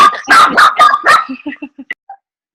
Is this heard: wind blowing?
no